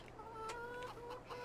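Chickens in Farming Simulator 22 give a few soft clucks over a steady low background hum, faint and brief.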